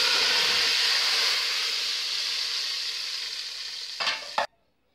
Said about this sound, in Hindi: दाल में तड़का लगा दें।